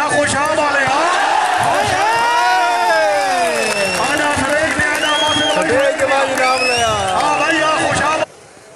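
A crowd cheers and claps at a local club match in Talagang district, Pakistan, a steady roar under a loud, amplified announcer shouting without pause until the sound cuts off.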